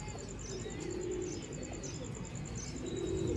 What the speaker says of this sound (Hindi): ये जी दोस्तों ब्रीडर कबूतर है माशाल्लाह से मेन